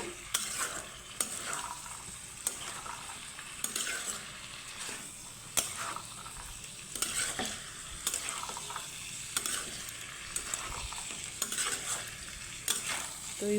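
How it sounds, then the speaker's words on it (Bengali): Fried potatoes and pointed gourd are stir-fried with spices in a pan, with a continuous close sizzle broken by regular scraping strokes of a spatula, several per few seconds, and no voices. "তো আলু পটলের সাথে সুন্দরভাবে মশলাটাকে কষিয়ে নেব"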